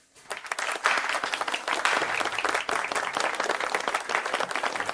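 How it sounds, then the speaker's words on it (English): An audience breaks into a big round of applause for company founders, the clapping rising quickly after a brief quiet start and holding steady and full. "Can we get a big round of applause for our founders, Charlotte Brown and Harper Lee?"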